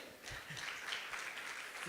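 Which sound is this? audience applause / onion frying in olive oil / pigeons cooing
audience applause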